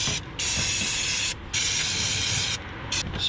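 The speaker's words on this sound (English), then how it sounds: "Spray liberally." Cleaner sprays from an aerosol onto the engine bay of a Fiat Panda 4x4, three long close hissing bursts with short pauses between, then a brief final spurt.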